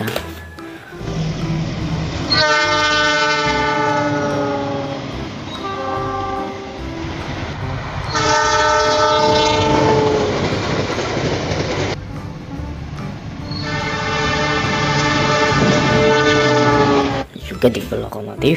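KRL commuter train passing nearby, sounding three long, loud horn blasts over the steady rumble and rattle of the carriages on the rails.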